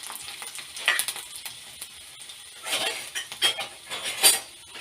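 Four garlic cloves sautéing in oil with mustard seeds for a tomato chutney, a soft sizzle punctuated by bursts of stirring and the clink of a spoon against the pan.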